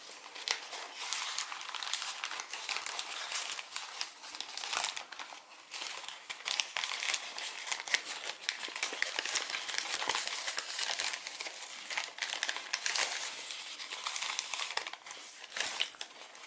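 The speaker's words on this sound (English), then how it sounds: "So what we're going to do is basically unfold everything that we've just done." Thin, weak origami paper being unfolded from a partially collapsed Pegasus model, a steady dense crinkling and crackling of folds opening, close and continuous for the whole stretch with no talking.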